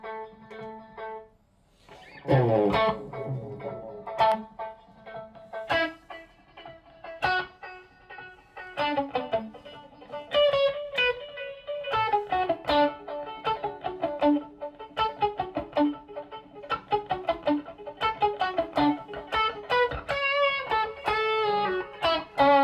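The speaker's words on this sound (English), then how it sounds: "here is a pad that is going to be triggered and play through any note I play" Played notes trigger a sustained synth pad through a Hotone Verbera pedal, so each plucked note is followed by a swelling, reverberant tone, and notes overlap in a dense, shimmering layer throughout.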